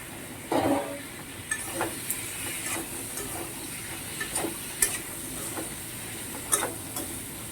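Fried potato, pointed gourd and tomato sauté with spices in a pan, a soft background sizzle with scattered spatula scrapes and clatters, one louder clatter near the start.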